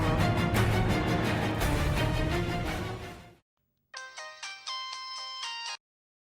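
A phone ringtone plays loudly, first as a dense musical tune, then after a brief silence as bright repeating chimes that cut off abruptly.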